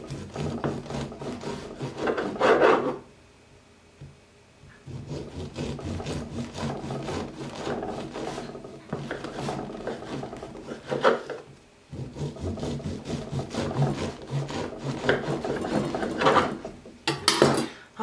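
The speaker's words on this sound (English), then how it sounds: "Now it's time to slice the bread." A knife saws back and forth through a heavy loaf of sprouted sourdough bread, making rough, rasping strokes in long steady runs, broken by brief pauses, close and clear with no talking.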